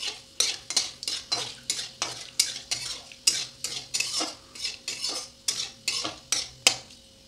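A spoon scrapes rhythmically around a pan of kasuri methi, bay leaf, dried red chilli and radhuni spices frying in hot oil, about fifteen evenly spaced stirring strokes, close and clear, with faint sizzling beneath.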